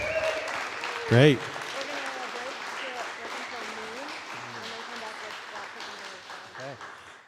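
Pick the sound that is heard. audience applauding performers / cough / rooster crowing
audience applauding performers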